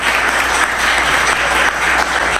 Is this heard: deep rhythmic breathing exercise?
no